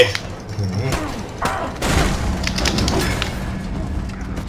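Gunfire and explosive booms in the Mad Max video game, a loud thump followed by a dense burst of shots and blasts over a few seconds.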